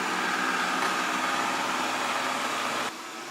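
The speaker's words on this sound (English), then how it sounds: "people don't have time to watch the vacuum clean the entire house, or even this room" A Proscenic 820S robot vacuum cleaner runs across a floor with a steady, broad whooshing motor and brush hum that drops slightly in level near the end; no voices.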